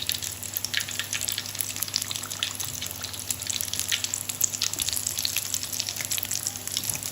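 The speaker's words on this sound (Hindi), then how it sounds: "ये इनकी साइड चेंज करके अब इनको दूसरी साइड से पका लेंगे" Potato samosas fry in hot oil, giving a dense continuous crackle and bubbling hiss that stays steady and fairly loud throughout, with no talk over it.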